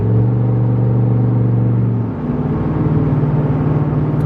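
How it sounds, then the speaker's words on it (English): A steady, loud, low engine drone and straight-piped exhaust rumble from a first-generation Ford Raptor truck cruising at highway speed near 80 mph, shifting slightly in pitch midway, with no voices. "you can hear the exhaust for sure in person"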